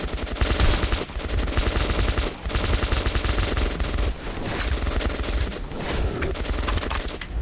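Sustained gunfire fills a firefight in the video game Metro 2033 Redux, loud rapid automatic bursts rattling almost without pause for several seconds.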